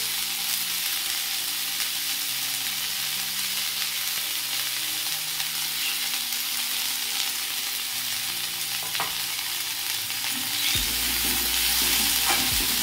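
Red amaranth stems being stirred as they fry in a little oil in a pan, a steady close sizzle with scraping stir strokes throughout, then a louder, rougher burst of frying and stirring toward the end.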